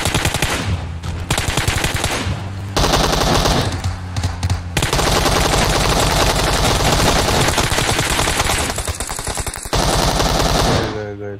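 Rapid automatic gunfire from PUBG Mobile played on a PC emulator rattles in long, loud bursts with brief pauses between them, dense and close.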